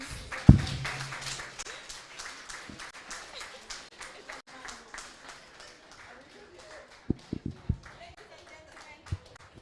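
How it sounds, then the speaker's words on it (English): Sustained applause from a crowd at a campus newspaper relaunch in Ghana, a dense wash of clapping that holds steady, with a few sharper nearby claps and thuds near the end. "A round of applause."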